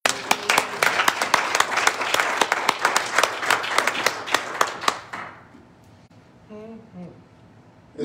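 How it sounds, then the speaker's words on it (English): A church congregation claps hands together in quick, rhythmic, sharp bursts for about five seconds, then the clapping stops abruptly, leaving a quiet room with a faint voice. "Will you clap your hands of the Lord?"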